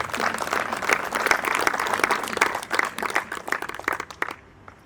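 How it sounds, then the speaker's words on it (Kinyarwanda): A live audience claps for Neri Misago at a celebration, a dense burst of applause that holds steady then thins and fades toward the end. "Mumfashe duha amashyi umugabo wicaye hano bitwa Neri Misago nyiri zacu."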